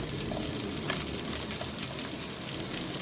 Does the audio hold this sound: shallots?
yes